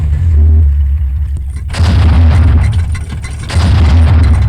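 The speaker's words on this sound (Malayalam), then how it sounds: "പൂക്കുറ്റിയുടെ വെടിപൊട്ടി." A firework fountain firecracker bursts with loud booming pops and crackles that come in two heavy rounds separated by a brief lull, near and continuous.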